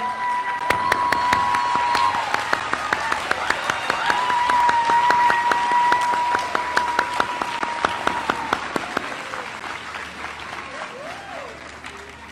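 A college commencement audience gives veterans a long, loud round of applause, with dense clapping and scattered cheers rolling steadily for over ten seconds before thinning out, while a voice and a sustained tone carry faintly above it.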